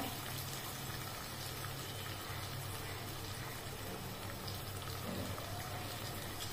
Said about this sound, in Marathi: त्याच्यामध्ये आपण दूध घालतोय.